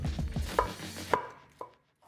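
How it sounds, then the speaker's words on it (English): Knife chopping cabbage for coleslaw on a board: a quick run of close, crisp chops that slows into a few separate sharp cuts before falling silent. "So I'm gonna finish chopping this up"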